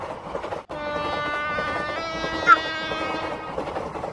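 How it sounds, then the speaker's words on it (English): A passenger train rolls past close by, a steady dense rumble with a sustained horn-like tonal sound layered over it, holding level throughout apart from a brief dropout near the start and a short spike midway. "It's another passenger train."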